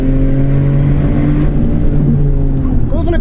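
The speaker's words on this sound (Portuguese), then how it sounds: "É assim que se dirige um 911." A Porsche 911 Carrera S engine hums with a steady, loud drone from inside the car, then climbs in pitch as it accelerates at the end, with someone talking over it.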